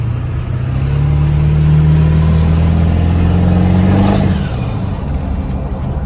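A red Ford 7.3 diesel truck engine idles loud and close with a steady low rumble, its pitch rising slightly then dropping off near the end.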